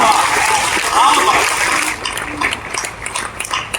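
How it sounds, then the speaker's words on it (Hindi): Audience applause at a poetry recital (kavi sammelan) in Nimbahera, a dense burst of clapping for about two seconds that then thins into scattered claps and crowd noise. "तालियां कम आई आपके लिए"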